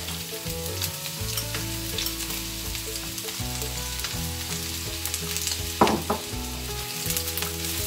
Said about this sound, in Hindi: प्याज को हल्का सा फ्राई करेंगे